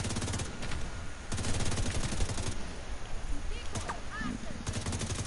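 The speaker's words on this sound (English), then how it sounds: "And there's snipers." Sniper rifles and other gunfire crack in Tom Clancy's The Division during a solo challenging mission at CDC headquarters, with sharp repeated shots in bursts over a low steady game background, and a player talks over the action.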